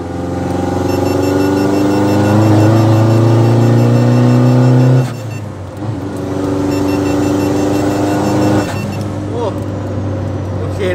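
An older car with a 1.9 engine revs hard through its gears, a loud, close, rising engine roar that drops sharply at each gear change before climbing again.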